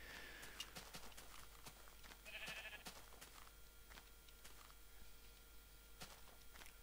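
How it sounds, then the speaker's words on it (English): A sheep bleats faintly in the distance, once, among quiet clicks and knocks against a hushed outdoor background. "It's good to know that there are sheep here."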